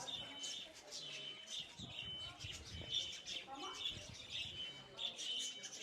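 Birds chirping and cooing around, like pigeons, with quiet background noise and some faint talk, in Kapalı Maraş, Famagusta.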